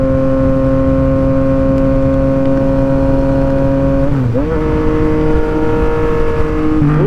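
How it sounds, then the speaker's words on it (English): A Yamaha MT-09 or MT-07 motorcycle engine revs through quick-shifter gear changes. It drones loud and close, and its pitch drops sharply at each quick shift before climbing again. "Ooh, that quick shifter."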